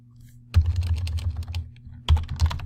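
Typing on a computer keyboard, close and fairly quiet: two short bursts of rapid key clicks, each opening with a sharper tap, over a faint steady hum.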